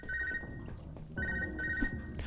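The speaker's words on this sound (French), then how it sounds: "Téléphone qui sonne." A telephone-style ring from an incoming codec call in the Unmetal video game sounds in two electronic bursts separated by a short pause, set over a soft background.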